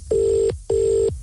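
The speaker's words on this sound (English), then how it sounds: "the phone began to ring" A telephone on the other end of a line rings with two loud, steady electronic tones. Each lasts about half a second and is split by a short silence, sounding close and clear with no voice over it.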